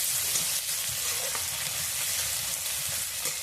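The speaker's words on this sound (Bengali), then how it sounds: "ভালো করে নেড়ে নেবো মশলাটাকে" Cumin seeds and spices fry in a pan with ginger, onion and garlic, giving a continuous close sizzle. Soft scraping stirs break the steady crackle at irregular moments, and no voices are heard.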